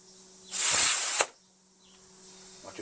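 An air compressor hose inflating a Toro ProLine 32 walk-behind lawn mower tire, one close, loud burst of hissing air lasting under a second, then quiet with faint handling noise.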